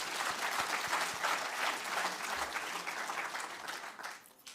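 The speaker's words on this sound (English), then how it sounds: "Let's give our teachers a round of applause." An audience at the official announcement of national examination results applauds its teachers, a full burst of crowd clapping that holds steady, then tapers off near the end.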